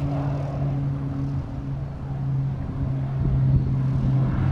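A low, steady engine drone with a humming tone grows gradually louder, like an airplane taking off in the middle distance at New Bedford Airport.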